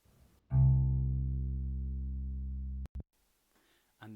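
A ukulele sample transposed down two octaves in Ableton plays as a deep, loud, sustained low tone lasting over two seconds, then stops with a click, followed by quiet and a faint voice at the edges.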